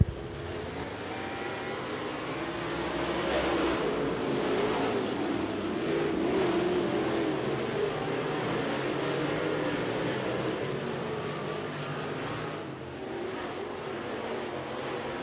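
AMS modified race cars roar around Tazewell Speedway, engines droning loud and sustained from a moderate distance, rising and falling as the pack passes through the opening lap.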